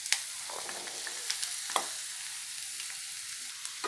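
Ridge gourd and onions fry in a pan with a soft, steady sizzle, broken by a few light scraping and stirring clicks; quiet and close, with no talking.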